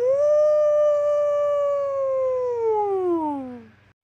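A voice from a 1995 Nick Jr. program imitates a whale saying hello: one long, steady, hooting 'ooh' that holds its pitch and then slides downward before cutting off.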